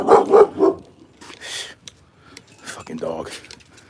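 A dog barks three times in quick succession close by, and then fainter yips and noise follow in an otherwise quiet room.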